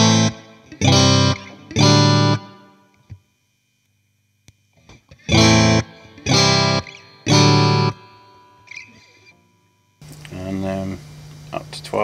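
An electric guitar played through a Mosky spring reverb and an EHX Holy Grail Nano, with the dry/wet mix and delay length set near 9 o'clock. Repeated strummed chords ring out with distortion and reverb tails, and a brief burst of talk follows.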